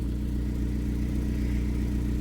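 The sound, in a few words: 2012 Chevy Equinox engine running on first start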